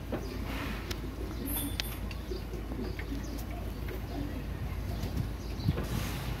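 Teddy pigeons from Chausa, a VIP pair-class flock, coo softly amid steady low ambient noise, with faint chirps and brief wing flutters scattered through the background.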